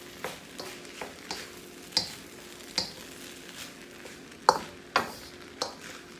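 Bacon, corn and rice stirred while frying in a pan for lobster and bacon fried rice: a low sizzle runs throughout, broken by about eight sharp scraping knocks and clacks of stirring at irregular intervals.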